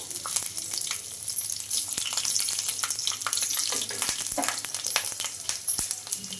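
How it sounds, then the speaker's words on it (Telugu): Garlic cloves and pieces of green chilli spit and crackle in hot oil, a busy close sizzle with sharp pops scattered through it and soft clicks of movement in the pan. "ఈ ఆయిల్ కూడా హీట్ అయ్యింది ఇందులోకి ఒక ఐదు వెల్లుల్లి అలాగే ఒక రెండు పచ్చిమిర్చి ముక్కలు"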